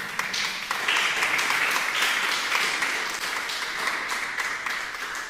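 A church congregation applauding, a full sustained round of clapping from many hands, close and steady, easing slightly toward the end.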